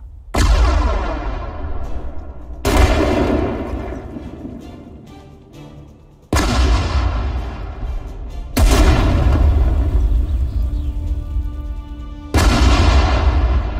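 Anti-tank guns fire in the Sudden Strike 4 WWII strategy game, five heavy booming shots spaced a few seconds apart, each a loud sharp blast with a long rumbling decay, and no talking.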